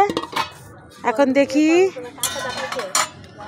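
A metal biryani cooking pot is opened, giving a few sharp clanks and clinks of lid and utensils, with voices talking over and between the metallic sounds.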